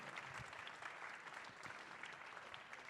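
An audience at a young-talent awards ceremony applauds the prize winners, a dense, steady wash of clapping from many hands that holds evenly throughout.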